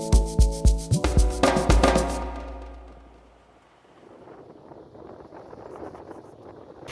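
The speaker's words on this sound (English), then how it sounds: "Got a bit of wind." A series of rhythmic, ringing knocks on a sailboat at sea gives way to steady wind buffeting the microphone, which swells and rumbles on its own with no talking.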